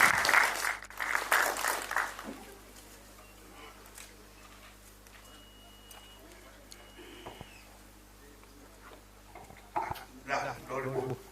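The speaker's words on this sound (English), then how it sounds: "Can we give him a round of applause?" An audience at a small-business funding information session gives a round of applause in two bursts, one at the start and one near the end, separated by quieter room noise and talk.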